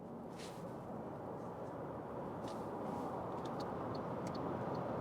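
An MG4 EV electric car accelerating hard at full throttle, heard as a steady broadband rush of road and wind noise that builds slightly in loudness, with faint high whine flickers and no engine note.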